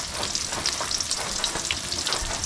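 Food fries steadily in a hot pan in a home kitchen, a continuous close sizzle and crackle with no talking over it.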